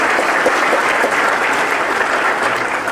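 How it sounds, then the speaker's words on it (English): A luncheon audience gives the chamber staff a round of applause. The clapping is dense and loud, continuing without break for about three seconds, with no speech over it. "I really want everyone to give a round of applause to our chamber staff"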